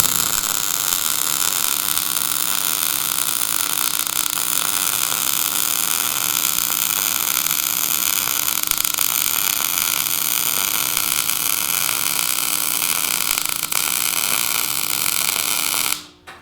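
A MIG welding arc burns steadily at close range as a weld is laid, a continuous crackling hiss over a low electrical hum that runs unbroken before cutting off at the end.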